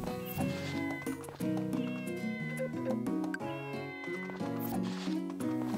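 A cat meows in the farming game Story of Seasons: Friends of Mineral Town, with repeated cartoonish meows over a bouncy, cheerful background tune.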